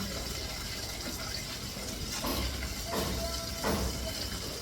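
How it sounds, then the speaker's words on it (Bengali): Running water from a kitchen tap pours steadily while dishes are scrubbed during cooking, a continuous splashing wash with a few louder surges of flow. "রান্না করতে করতে যতটা বাসন পরে না আমি মেজে তুলে রাখি"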